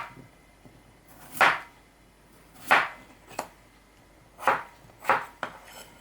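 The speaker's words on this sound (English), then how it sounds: "I'm just going to cut the potatoes into 1 centimetre by 1 centimetre slices." A knife chops through potatoes on a board, cutting them into small slices, with five crisp, separate strokes spaced about a second apart, close and clear with no talking.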